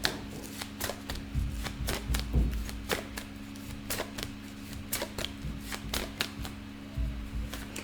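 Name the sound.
shuffling tarot cards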